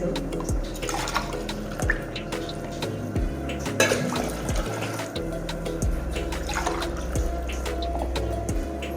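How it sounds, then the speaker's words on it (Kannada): Water poured into a pot, about four glasses, for making ragi mudde in a home kitchen; a steady splashing pour runs throughout at moderate level with no talking. "ಇದಕ್ಕೆ ಫಸ್ಟ್ ನಾನು ಇಲ್ಲಿ 4 ಗ್ಲಾಸ್ ಆಗುವಷ್ಟು ನೀರು ಹಾಕೋತಾ ಇದ್ದೀನಿ"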